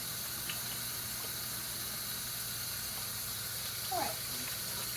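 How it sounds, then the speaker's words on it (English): Tap water runs steadily as hands are washed at a kitchen sink, a faint continuous hiss with a couple of brief clinks and a soft knock near the end; no speech. "Let me wash my hands."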